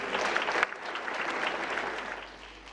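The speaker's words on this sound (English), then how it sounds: "3 hoorays and applause from you" Steady applause from an audience at a UNICEF celebration of communities now open defecation free, dense and continuous clapping that holds at an even level throughout.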